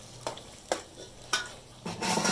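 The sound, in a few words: tomatoes added to frying keema, stirring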